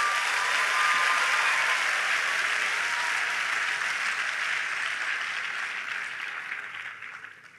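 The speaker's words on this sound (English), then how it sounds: "shall we all give a big clap of praise to God?" A large crowd at a university matriculation ceremony applauds in a broad, even wash of clapping that slowly tapers off toward the end.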